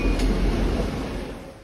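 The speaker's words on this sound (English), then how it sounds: "sitting at Chelsea Station waiting for the wash train to pass us" A rail wash train used for leaf cleaning passes Chelsea Station near Boston, a broad, loud rumble and hiss of spray that slowly fades as it goes by.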